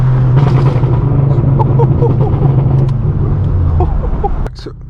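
Straight-piped BMW M4 F82 idling loud and close, a deep steady exhaust drone peppered with sharp scattered pops and crackles, cutting to a quieter hum near the end.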